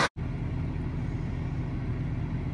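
A car engine rumbles steadily and close, as if heard from inside the moving vehicle, a continuous low drone that starts after a brief cut and holds at an even level.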